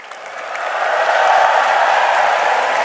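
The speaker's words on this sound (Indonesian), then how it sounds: "Ayo kita sorak." A crowd at a Malaysian prime minister's address cheers and applauds on cue, a broad sustained roar that swells over the first second and holds steady, loud and close.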